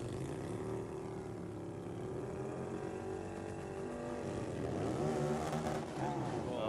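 Drag-racing motorcycles, a big twin against a Jap Rocket, launch at a strip with a sustained, fairly distant engine roar that climbs in pitch and grows louder toward the end.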